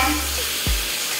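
Shrimp sizzle and fry in a pan for taco filling, a short burst of hissing with a quick scrape as the pieces are stirred around.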